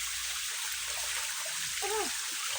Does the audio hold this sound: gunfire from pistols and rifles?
no